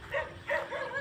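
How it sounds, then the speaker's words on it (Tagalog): A dog barking outdoors near a rice field in the morning, three short yapping barks spaced evenly at moderate distance, with no talking over them. "Ito mayroong aso dyan, tumatahol-tahol pa."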